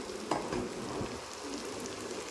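Onions and chunks of elephant foot yam fry in a pan, giving a steady sizzle under a few clinks and scrapes of a stirring spoon near the start, and no one speaks.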